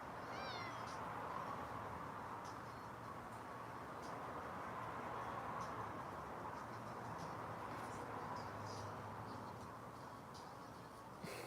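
A house cat gives a short meow early on, then a faint continuous indoor hum fills the rest of the clip.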